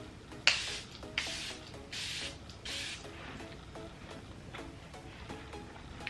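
Charlotte Tilbury makeup setting spray misted from a bottle with a pump applicator, heard as four short, hissing spritzes at fairly even intervals against a quiet background with faint music.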